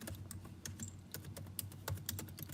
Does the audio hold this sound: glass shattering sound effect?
no